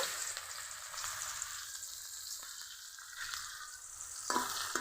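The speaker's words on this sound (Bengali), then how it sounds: "পেঁয়াজ হালকা ভেজে নিব" Chopped onions fry in hot mustard oil in a wok, giving a steady, close sizzle with soft stirring scrapes. A brighter crackle rises near the end, and no one speaks.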